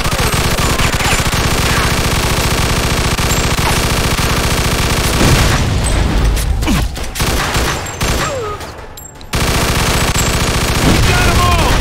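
Sustained, loud automatic machine-gun fire from the Mafia 2 Definitive Edition video game roars almost continuously, with a brief thinning mid-burst before the rattling resumes at full force.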